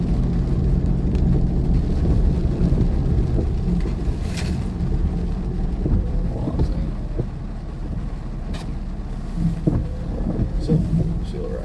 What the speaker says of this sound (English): It's very much pouring here still, guys.